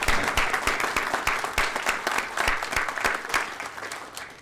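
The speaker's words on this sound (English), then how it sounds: "So please join me in a hearty round of applause for Mr." An audience at a formal board meeting applauds steadily, a dense, fairly loud wash of many hands clapping that holds for several seconds and then begins to fade at the end.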